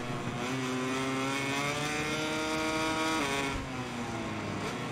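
Racing motorcycle engine in the MotoGP 21 video game, a continuous high-revving whine with shifting pitch that dips briefly near the end, loud and steady with no talk.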